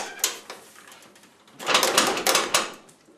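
Someone bangs on a locked door, a few sharp knocks early on, then a louder flurry of repeated thuds near the end, close and without speech in between.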